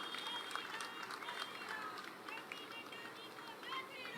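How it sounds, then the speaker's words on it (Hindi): An audience at a political party office event claps loudly and continuously for the national president, a dense steady patter of many hands with voices and cheering mixed in. "सभी जोरदार ताली बजाएं आदरणीय अध्यक्ष जी के लिए।"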